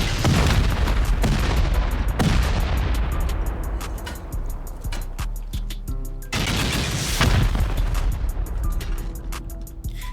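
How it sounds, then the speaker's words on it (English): Dense rapid series of C4 and rocket explosions in a video game base raid, with heavy booms and gunfire-like blasts stacking loudly and continuously, two big swells of detonations dominating without speech. "I used a good 36 C4 and 36 rockets on this base"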